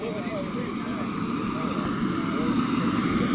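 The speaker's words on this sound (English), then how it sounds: "of a jet engine running." A radio control model jet airplane's engine runs steadily at a fun fly event, a continuous broad roar holding at even loudness throughout, with faint voices in the background.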